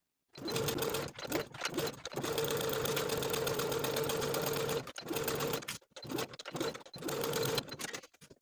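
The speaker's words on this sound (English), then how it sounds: "sew those outer edges with a 5/8 inch seam allowance" A sewing machine stitches the outer edge seams of a 1940s-style blouse collar with a 5/8 inch seam allowance, running in several steady bursts separated by brief pauses, close and fairly loud.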